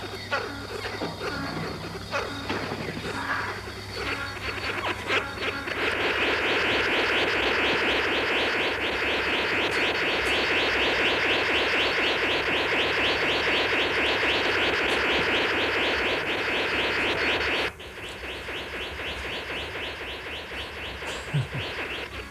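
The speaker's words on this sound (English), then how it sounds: "This is a upside-down courtship dance of a blue bird of paradise in New Guinea. But listen to the sound." A blue bird of paradise in New Guinea gives a mechanical, artificial-sounding whirring courtship call during its upside-down display, a loud sustained buzz lasting about twelve seconds over quieter forest ambience with scattered chirps.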